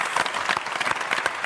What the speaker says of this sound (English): We should clap that again.